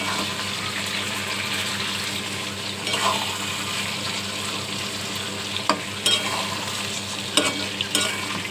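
Chicken and onions sizzle steadily in a pan for green chicken, a close, constant bubbling fry with a few sharp clinks and stirring scrapes near the end, and no talking.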